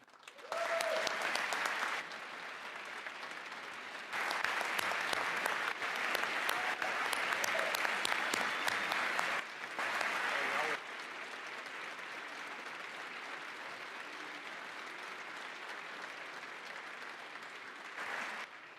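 Georgia legislators applaud during the governor's final State of the State address, loud sustained clapping in a large chamber that swells and fades in several waves across the clip.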